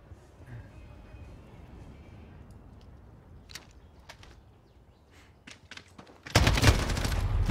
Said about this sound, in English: I shot right at him, Freddy, you saw that!